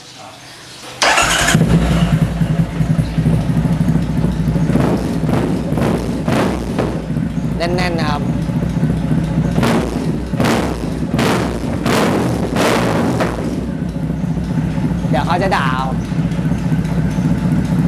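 Custom Triumph Thruxton 900 motorcycle engine cranks and fires after a second of quiet, then settles into a loud, steady idle with a few revs and thuds while someone talks over it.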